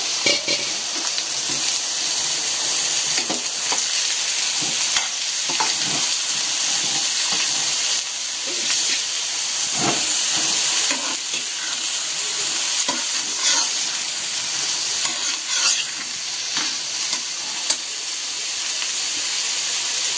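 Bitter gourd pieces fry in a pan with a steady sizzle and hiss, broken by repeated scraping and clinking as they are stirred, close and continuous for the whole stretch.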